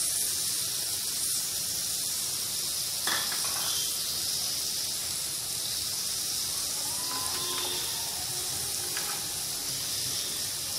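Half a spoon of asafoetida sizzling in a kadai: a steady, bright hiss of hot oil that holds without a break, with a few faint clinks over it.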